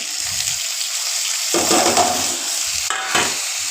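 Tomatoes are stirred into browned onions frying in a pan, giving a continuous close sizzle broken by a couple of scraping stir strokes.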